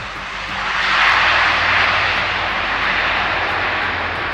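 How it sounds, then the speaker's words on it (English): French A400 transport plane landing at Minsk Mazowiecki, a loud steady roar of turboprop engines swelling then holding, heard alone without voices. "special footage of a French A-400 transport plane landing in Minsk, Mazowiecki"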